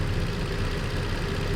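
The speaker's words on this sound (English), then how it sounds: "just sitting here idling" Car engine idling steadily after the cooling system was burped and topped up with antifreeze, a constant low rumbling drone with no fans running, close and unbroken throughout.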